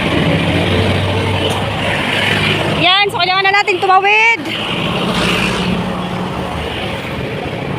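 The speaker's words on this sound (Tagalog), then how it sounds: "Tuloy-tuloy kasi mga sasakyan dito." Steady street traffic rolls past continuously, a dense roar of nearby vehicles, while someone speaks briefly in the middle.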